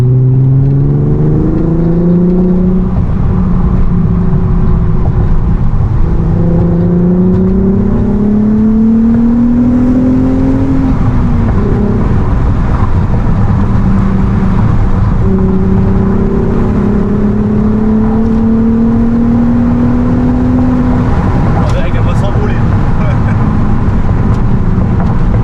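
A Volkswagen Golf 5 R32 with a naturally aspirated engine accelerates hard, its engine note climbing through several gears in steady rising sweeps, heard from inside the car with occasional talk.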